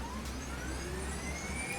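An ambulance siren in the Emergency 4 video game wails with a slowly rising tone, heard at a distance and faint beneath a constant low rumble of game ambience.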